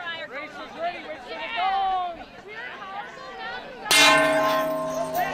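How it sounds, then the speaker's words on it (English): A gong is struck to start a longboard ski race outdoors, a loud ringing crash that sustains and slowly fades after a crowd chatters beforehand. "Rick got a chance to bang on the gong to start a race"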